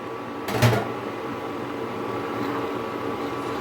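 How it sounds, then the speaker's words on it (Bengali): A lid lifted off a pot of carrot and semolina-ball sweet cooking on a home stove gives one short clattering knock near the start, followed by a steady low hum of background noise. "এখন আমি এই ঢাকা চাপাটা তুলে দেব"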